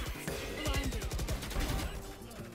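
Rapid gunfire bursts in the video game Valorant, a quick run of loud close shots firing in a tight rhythm over about two seconds, then fading.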